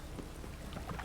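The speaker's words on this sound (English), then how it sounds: "Must be mad running around in this rain." Steady rain falls in The Witcher 3, a dense wash of close patter with a low rumble underneath suggesting distant thunder, continuous and fairly quiet with no talk.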